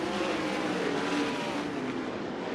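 USAC AMSOIL National Sprint Cars roar around the Central Arizona Raceway speedway, a dense, continuous, loud wall of engine noise from the racing pack with no gaps.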